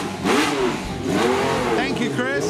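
Niki Lauda's 1976 Ferrari Formula One car, shown at the Pebble Beach Concours d'Elegance, revs close by in rising and falling sweeps, blipping twice and climbing again near the end, with a voice talking over it.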